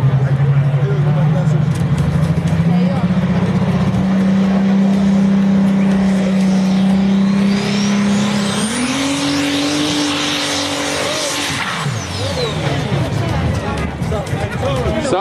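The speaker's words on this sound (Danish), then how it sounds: "der kører traktoren her i prøvetrækket" Tractor engine roaring at full load during a test pull at a tractor pulling event in Brande, a loud, sustained drone that climbs in pitch as it strains, then drops away toward the end, with announcer talk and crowd noise underneath.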